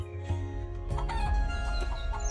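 An injured hen clucks in a few soft, short calls near the listener over a low steady background hum, with no voices.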